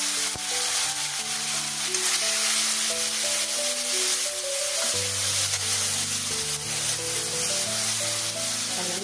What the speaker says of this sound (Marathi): हा टोमॅटो मी बारीक चिरून घेतलाय तो टाकला